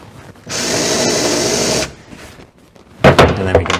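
A power drill countersinks holes in a miter saw station table: a loud, close, steady whir for about a second and a half, a short pause, then a second rougher burst of drilling into the wood.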